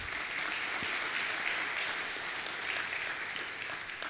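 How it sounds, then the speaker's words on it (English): A conference audience at an education forum applauds partner organizations, a continuous wash of clapping heard from a distance, fairly soft and even throughout with no speech over it. "Please, round of applause for them."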